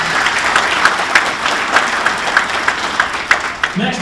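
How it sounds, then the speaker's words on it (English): Hearty applause from an audience at a sports hall of fame induction ceremony, continuous dense clapping at a steady loud level throughout, with a voice starting up just at the very end. "Please give all these folks a big round of applause."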